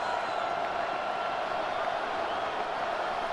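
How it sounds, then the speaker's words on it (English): Stadium crowd in a simulated Madden NFL 26 divisional-round game between the 49ers and the Eagles, a steady, fairly faint wash of massed cheering and murmur. "Crowd noise rises."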